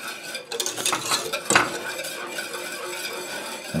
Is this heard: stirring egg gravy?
yes